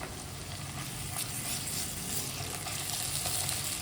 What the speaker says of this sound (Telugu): ఇప్పుడు ఉల్లిపాయలు వేగాక ఈ మనం తీసి పెట్టుకున్న అల్లం కూడా వేసేసుకుని వేపుకోవాలి